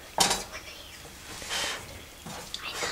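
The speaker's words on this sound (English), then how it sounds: "Mix it well in every sides." Marble cake batter mixed in a bowl: soft, swishing scrapes of a utensil against the bowl come in a few separate strokes, close and fairly quiet.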